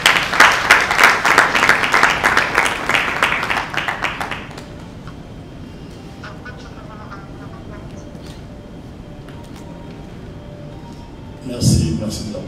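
Applause from an audience at a certificate award ceremony in a Kinshasa hotel, a dense burst of clapping for about four seconds that ends abruptly, then a quiet room with faint murmur and a short noisy bump near the end.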